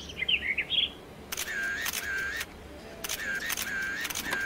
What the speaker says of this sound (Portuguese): Mais um clique e pronto! Mais uma foto!